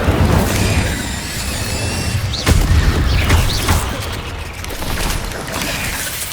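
Spell blasts from an Incendio cast in a Hogwarts video game, with sharp bursts around the middle over dense, continuous combat effects and mechanical clatter.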